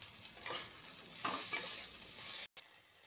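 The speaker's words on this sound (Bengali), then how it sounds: "এবার বাকি যেগুলো সবজিগুলো ছিল সব সবজিগুলো দিয়ে ভেজে নেব।" Vegetables stir-fry for chow mein after the onions, sizzling steadily under a few scraping stirring strokes. The sound cuts out briefly near the end. No one speaks.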